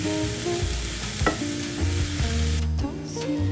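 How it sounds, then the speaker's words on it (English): A spoon stirs chopped parsley into a topping mixture for Fish Veronique, giving soft, continuous scraping and mixing, with tonal background music running underneath throughout. "And now I'm going to mix it well."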